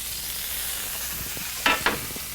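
Prosciutto and provolone stuffed flank steak searing in a pan, a steady soft sizzle throughout with two brief sharp spits near the end.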